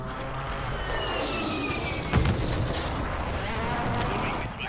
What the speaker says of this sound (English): Airstrike in the tents now.